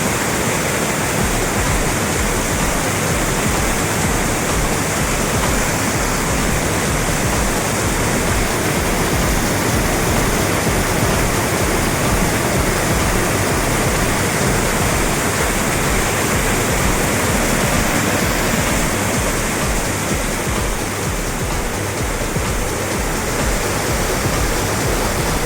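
Water from a filled pond rushes through a sluice gate in a loud, unbroken roar of falling water, like a waterfall, constant and close throughout.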